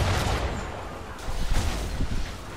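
Chain-shot cannon fire erupts from a sailing ship in Assassin's Creed III, a couple of heavy booming blasts rolling over a rumbling, noisy sea-battle background.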